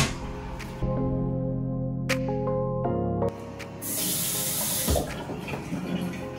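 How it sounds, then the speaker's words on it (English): An apartment toilet flushes in a bathroom: a loud hiss and rush of water, a gurgling drain and a steady refill spray, with a tonal hum partway through. "Let's see the flush."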